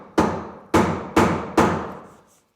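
Four sharp, evenly spaced mallet strikes on a chisel cutting across the grain of wood for a bench, each a loud close knock with a short ringing decay, no voices.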